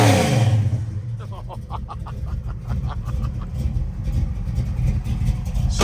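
A 1971 Chevrolet Chevelle with a 572 big-block engine fires up, cranking briefly before catching into a loud, rumbling idle with a choppy, pulsing rhythm that stays close and unbroken throughout.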